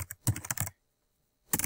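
Quick bursts of computer keyboard typing, close and crisp, with a clear pause of near silence before a final flurry of keystrokes.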